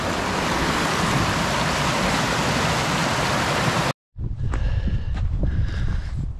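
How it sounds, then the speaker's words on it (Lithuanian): Loud, steady rush of a rain-swollen forest stream fills the first half, cuts out briefly, then returns as a noisier, more uneven gush. "Pilnas upelis vandens."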